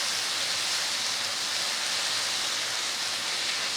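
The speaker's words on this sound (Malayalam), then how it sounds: "ഈ തക്കാളിയും കൂടെ നല്ലതായിട്ടൊന്ന് വഴറ്റാം" Chopped tomatoes and onions sauté in a pan for a drumstick-leaf dal curry, giving a steady, even sizzling hiss that stays constant and fairly loud throughout with no breaks.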